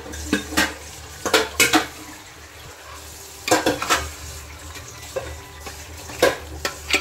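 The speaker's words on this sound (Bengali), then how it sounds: "মাটনগুলো দিয়ে দিয়েছি, মাটনগুলো কষাচ্ছি" Mutton browns in a pot with ghee and garam masala, a low frying hiss broken by clustered metal clanks and scrapes of a spoon against the pot, in bursts with short pauses between.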